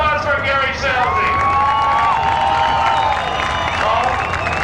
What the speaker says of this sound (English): How about a round of applause for Gary Selzy?